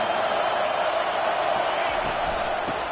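A stadium crowd in a college football video game roars steadily as it gets loud to help its defense, forming a dense, continuous wash of noise at an even level.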